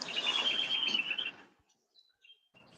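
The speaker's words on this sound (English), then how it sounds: "Even the bird agrees with me." A bird chirps outdoors in a quick run of bright, repeated high notes for about a second and a half, then a few thin, scattered calls follow against quiet background.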